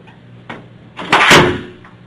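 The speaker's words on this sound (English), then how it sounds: "Can you close the door, please?" A room door is pulled shut in a police station, a short knock-like bump of handling and then a loud close thud as it closes, with the slam's rumble fading over about a second.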